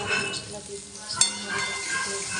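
Shredded cabbage fries and sizzles in a pan with cumin, ginger and tomato, a steady close hiss broken by a sharp utensil clink partway through.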